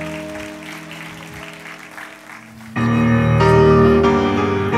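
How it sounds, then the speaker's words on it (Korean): A church congregation at an Easter service applauds in a steady, diffuse patter. Partway through, loud sustained music takes over. "여러분 다시 한번 우리 전도사님에게 뜨거운 박수 부탁합니다."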